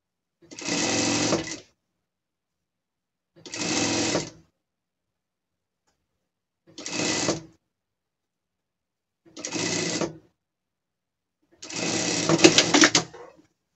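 Sewing machine stitching a French seam in fabric for a gaucho-style pet outfit. Five loud close bursts of whirring stitching, each a second or two long, separated by silent pauses while the fabric is folded.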